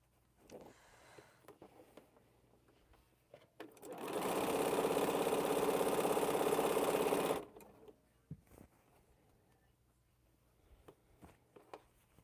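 Sewing machine stitching quilt blocks in one steady fast burst of about three and a half seconds, between quieter stretches with faint handling noises.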